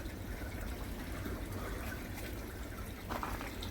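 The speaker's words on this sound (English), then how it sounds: "I don't know why that's bubbling over there." Water bubbles and trickles steadily in a cold koi pond, with air from an air stone rising under the ice, a constant faint wash of liquid noise and a brief louder gurgle near the end.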